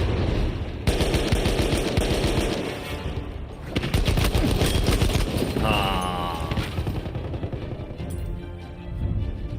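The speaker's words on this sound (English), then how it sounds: "Oh, someone's shooting at me." Rapid automatic gunfire rattles in near-continuous bursts in a Battlefield 2042 match, loud and close, with brief pauses and a whizzing effect partway through; a voice talks faintly underneath.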